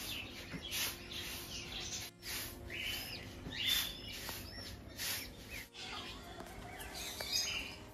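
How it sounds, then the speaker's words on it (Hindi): Baby koel chicks calling with repeated high, thin chirps and squeaks while being hand-fed indoors, close and fairly loud, with a steady hum beneath and no talk. "अब ये दोस्तों बेबी कोयल को खिलाना होगा"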